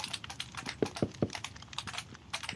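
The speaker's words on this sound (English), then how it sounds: "I got a really loud keyboard." Loud computer keyboard typed in rapid bursts, a close, steady stream of sharp clicks and clacks with a few heavier key thumps.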